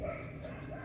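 A Cane Corso puppy barks at a fence, a dense, continuous muffled woofing with a second puppy also present, loud and close with no gaps.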